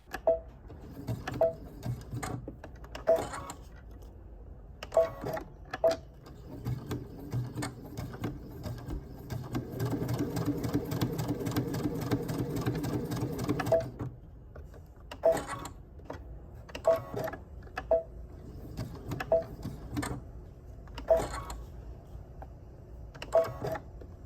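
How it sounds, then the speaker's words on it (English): A sewing machine stitches out a design in gold thread, giving repeated mechanical clicks and whirring runs, with a steadier, denser stretch of stitching in the middle, heard close up and without talk. "So I'm going to jump over to my machine and sew that out."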